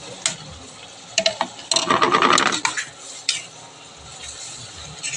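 A mother stirs vegetables in a pan at home, with repeated scraping and clinking of the utensil against the metal and a busier burst of stirring in the middle, heard close up and with no talking.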